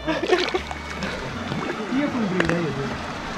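Water splashes at a hot spring at Kheerganga, Parvathi Kund in snowy Himachal as someone gets in. Faint sloshing and splashing sits under steady talking voices.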